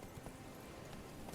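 Hooves of Geralt's horse Roach in The Witcher 3 as she gallops in a steady, close clip-clop rhythm, quiet and continuous with no talk.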